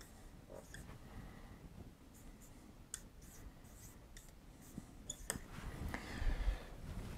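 Handwriting out a math equation, faint, sparse pen scratches and light taps against a quiet room, growing a little louder and busier toward the end.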